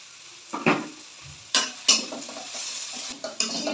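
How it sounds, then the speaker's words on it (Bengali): A spoon scrapes and stirs chili and spices in a hot frying pan, with a few distinct clinks against the metal over a soft background sizzle. "নাড়াচাড়া কমপ্লিট"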